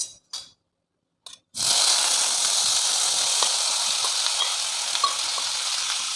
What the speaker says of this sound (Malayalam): ഈ പാനിലേക്ക് തന്നെ കുറച്ചും കൂടി നമുക്ക് വെളിച്ചെണ്ണ ഒഴിച്ചു കൊടുത്തേക്കാം ഇതിൽ നമ്മൾ കോരി മാറ്റി വെച്ചിരിക്കുന്ന ചേന ഇട്ട് കൊടുത്തേക്കാം